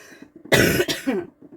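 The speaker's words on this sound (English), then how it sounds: "my cough is definitely getting better" A person coughing indoors in a camper van, one close, loud burst of harsh coughs with a rougher throat-clearing tail, framed by quieter rustling.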